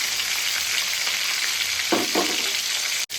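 Green chillies, whole dried chillies, panch phoron and sugar crackle in hot oil as a tempering, a loud close hiss with a couple of soft stirring knocks near the end.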